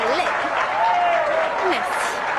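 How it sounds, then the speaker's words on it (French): Steady applause from an audience at a voting contest, with a voice speaking over the clapping throughout. "Et maintenant, veuillez applaudir"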